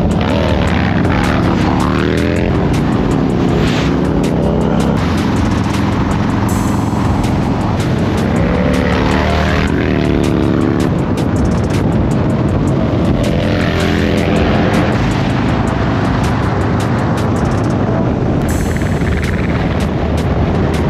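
A motorcycle revs hard and pulls away, its loud, close engine note climbing and falling in repeated sweeps over heavy wind rumble, continuing without a break.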